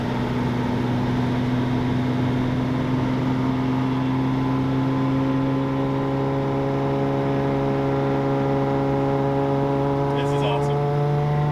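Race cars in a memorial procession drone with a steady, loud engine tone that holds through the whole stretch, and a person talks briefly near the end.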